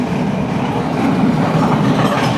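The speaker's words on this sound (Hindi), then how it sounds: "यहाँ ट्रेन जो है वो सिंगल ट्रैक पर आ गई" A train near Colombo along the Indian Ocean rumbles onto a single track, a loud, close, continuous roll of wheels with a dense low rattle and steady clatter throughout.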